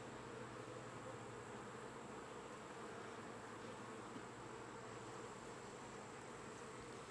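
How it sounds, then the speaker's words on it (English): A steady, low hum of many honey bees buzzing close by in an open hive, continuous and even throughout with no voices. "There's a good amount of bees in here too."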